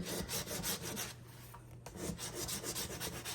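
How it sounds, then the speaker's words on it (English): A bone folder is rubbed firmly across paper to burnish it down, producing close, steady rasping strokes in a quick repeating rhythm, with a brief pause midway and no voices. "we'll take my bone folder once again and really burnish that down nice"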